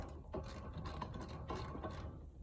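A ratchet wrench clicks in quick close runs while tightening a wheel on a 2020 Mazda CX-5 after a rear brake job, with brief pauses between strokes and no talk.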